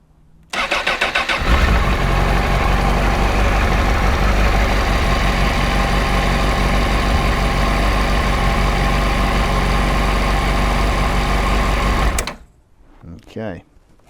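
An 18-year-old Honda Fireblade motorcycle engine cranks and fires, then settles into a loud, steady idle close by for about ten seconds before cutting off, followed by brief quiet.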